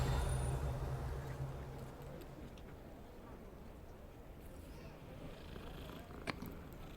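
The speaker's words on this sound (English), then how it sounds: "Cats. Gotta pet the cat." A cat purrs in Hogwarts Legacy, a soft steady rumble strongest at the start and fading under game ambience, with a brief sharp click near the end.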